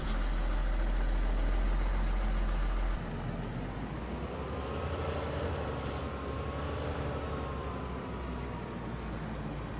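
A heavy tractor engine in Farming Simulator 19 runs steadily with a deep, continuous rumble, dropping slightly in pitch partway through as it settles into a constant drone.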